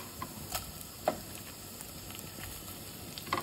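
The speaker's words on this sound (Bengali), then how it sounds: "আর কাঁচা মরিচগুলো ভেজে নেব" Dried and green chilies frying in hot oil in a pan give off a soft, sparse sizzle with scattered small pops and crackles.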